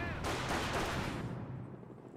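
Gunfire erupts in the World War II strategy game Company of Heroes, a quick burst of overlapping rifle and machine-gun shots heard faintly before trailing away.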